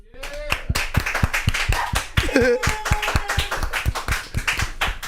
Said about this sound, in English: every American in this room, clap it up